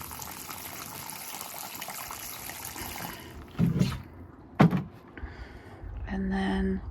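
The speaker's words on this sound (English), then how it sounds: "There, I'll put some water in." Water poured into a garden plant pot, a steady splashing trickle running under a broad outdoor wash, with a couple of sharp louder splashes midway and a fuller pour at the end.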